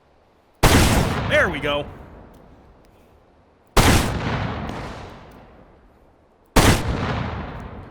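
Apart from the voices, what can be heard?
rolling block rifle gunfire in the video game H3VR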